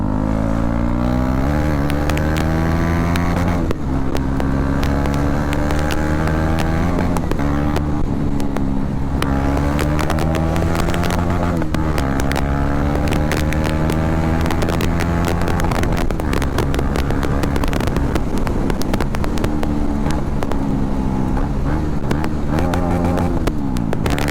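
A KTM Duke 250 motorcycle with no exhaust fitted, its engine loud and close, revving up and down repeatedly in rising and falling sweeps over a constant raw idle for the whole stretch.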